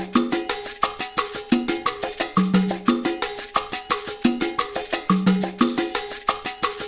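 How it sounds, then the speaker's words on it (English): Crisp hi-hat ticks and shaker rustle run in a fast, steady rhythm, tucked into a Ghana gospel highlife mix with a repeating low bass line. "we try to blend the hi-hat with the shakers so that it just sits in it"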